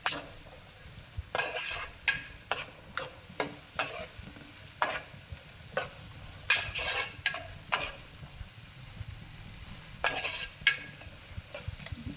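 Chicken pieces fry in a pan until golden, a steady soft sizzle punctuated by repeated scraping stirs of a utensil against the pan, close and clear with no talking.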